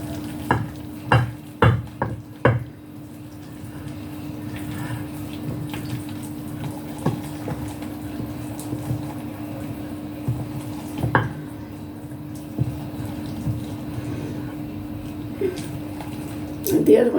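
Brown loaf bread dough with oats being stirred in a bowl, with a few sharp knocks of the spoon at the start and wet, soft stirring sounds afterward beneath a steady background hum.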